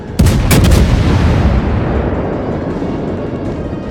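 A warship's heavy naval guns fire in World of Warships: a loud, booming salvo of overlapping blasts opens, then rolls into a long, deep rumbling decay that fades over several seconds.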